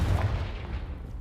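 Confringo blasting spell in Hogwarts Legacy, a single brief booming blast with a rumbling low-heavy tail, fairly close and moderately loud.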